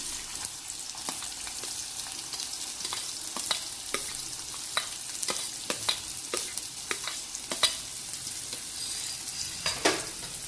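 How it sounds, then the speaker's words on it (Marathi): Soft, continuous sizzle of onions frying in oil, broken by frequent light clicks and scrapes of a spoon stirring the pan. "कांदा चांगला लालसर होईपर्यंत भाजून घेऊया. कांदा भाजतोय."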